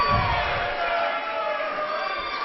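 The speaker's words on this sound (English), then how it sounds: "Oh, the crowd is really getting into it, Mick." Loud, steady roar of a packed crowd at a professional wrestling show in Richfield, Minnesota, cheering and shouting continuously throughout, with a commentator's voice mixed faintly into the din.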